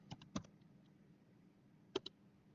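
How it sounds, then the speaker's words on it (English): A few soft keystrokes on a computer keyboard, two quick clusters of clicks separated by a pause, close and quiet in an otherwise silent room. "So I will type make"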